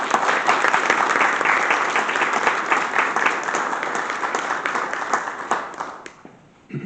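Sustained applause from an audience at a North Carolina policy forum greeting Secretary Cody Kinsley, steady dense clapping for about six seconds before quickly tapering off.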